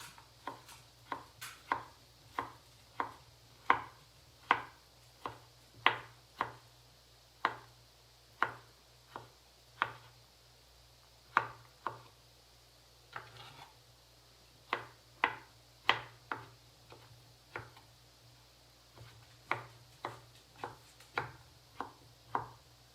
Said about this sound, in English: I'm just going to start by cutting it up into little chunks